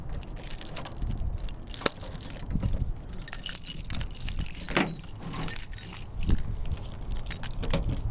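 A large ring of keys jangling and scraping at the door lock of an M1009 military truck, continuous metallic clinking and rattling for several seconds with occasional sharper clicks, close and fairly loud.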